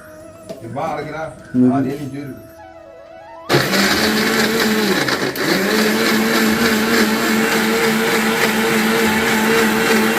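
A kitchen mixer grinder in a home kitchen starts abruptly after voices and a short hum, then roars loudly and steadily with a high whine and a slight shift in pitch as it keeps running.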